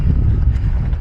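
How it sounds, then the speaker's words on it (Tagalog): Low, rumbling wind buffeting the microphone, a brief steady roar with no voices. "Mahangin."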